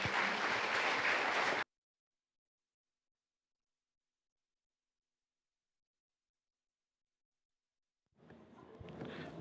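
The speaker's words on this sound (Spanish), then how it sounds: "Le recibimos con fuertes aplausos" At an evening Bible seminar, a church audience gives a brief burst of loud applause welcoming the pastor. It cuts off abruptly into a long silence before faint room noise returns.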